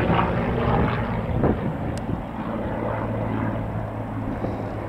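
A Hawker Hurricane Mk XIIa World War II fighter flies over Duxford at a display day, its propeller engine giving a loud, continuous droning roar that fades slightly as it passes, with no voices.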